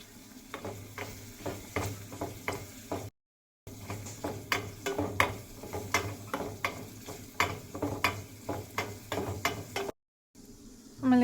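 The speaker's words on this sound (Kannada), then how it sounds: "ಎಣ್ಣೆ ಹಾಕಿ ಬಿಸಿ ಆದಮೇಲೆ ಅದಕ್ಕೆ ಸಾಸಿವೆ ಹಾಕಿ ಆಮೇಲೆ ಬೆಳ್ಳುಳ್ಳಿ ಗ್ರೈಂಡ್ ಮಾಡಿದ್ದು ಹಾಕಿ" Hot oil tempering with mustard seeds, ground garlic and curry leaves for a lemon and amla pickle, with a steady sizzle broken by rhythmic scraping and clanks of a spoon stirring in the pan.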